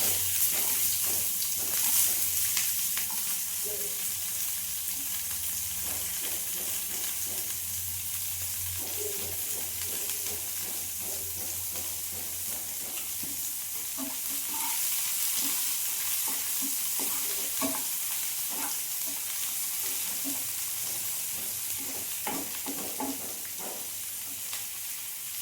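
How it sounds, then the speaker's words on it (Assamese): Onions fry in hot oil with cumin seeds in a pan for a chilli fish curry, a steady, close sizzling hiss broken by soft scraping and stirring clinks throughout. "পিঁয়াজখিনি ভাজি লওঁ।"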